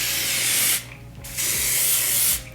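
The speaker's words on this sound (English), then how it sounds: "I spray the top and the bottom of the section" Two hissing bursts of an aerosol hair spray onto a section of wig hair, each under a second, separated by a short pause, close and fairly loud.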